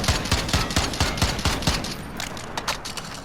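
Starlight M14 rifle fired aiming down sights in Modern Warfare: a quick, evenly spaced string of about eight sharp, loud shots, then a few scattered follow-up shots, with no talk.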